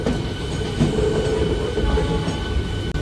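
A new, shiny white-and-violet train runs close by near Howrah, giving a steady, loud rail rumble and rattle that continues without a break and with no voices.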